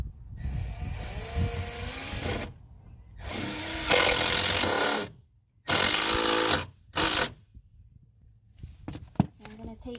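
A power driver runs screws into Hardie board fiber cement siding on a patio wall, giving several loud, sustained whirring bursts a few seconds long, separated by brief pauses and softer handling noises.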